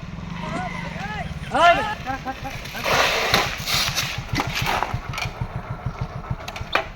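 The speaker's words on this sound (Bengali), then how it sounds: "আইতেছে একটা গাড়ি," A motor vehicle engine, probably a motorbike, idles and pulses nearby with a rough, rhythmic throb while voices talk loudly over it.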